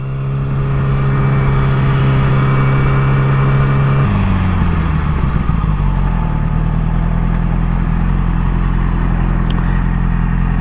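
A 2007 Yamaha R6 sport motorcycle rides along a road, its engine droning loud and close with a steady pitch before dropping and shifting partway through, then carrying on with a rougher rumble.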